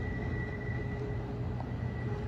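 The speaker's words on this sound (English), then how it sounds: "That's probably the longest intermodal train I've ever seen." A long intermodal freight train rumbles past steadily near a maintenance-of-way office, a continuous low roar with a faint tonal hum throughout.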